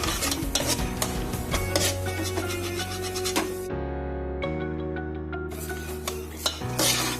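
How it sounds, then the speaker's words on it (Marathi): A spoon scrapes and stirs a thick khoa mixture with dry ginger, cinnamon and cardamom powder in a pot for banana-chikoo vadi, with repeated rasping strokes against the metal and a pause in the middle. "आता हे ढवळायचंय।"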